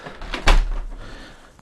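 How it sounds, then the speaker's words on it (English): A door is pushed shut indoors, giving one short, close thud followed by a brief fading rattle. "shutting the door"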